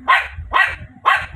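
A small dog barks three times in a regular rhythm, close and fairly loud, with short gaps of quiet between each bark.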